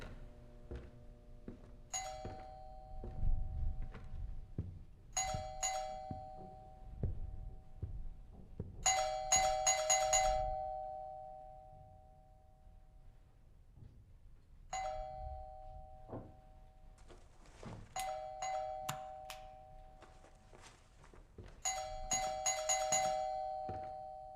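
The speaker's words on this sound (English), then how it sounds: "Doorbell." A doorbell in a horror video game rings repeatedly, each two-tone chime sustained and clear, recurring about five or six times across the stretch over a low rumbling ambient background.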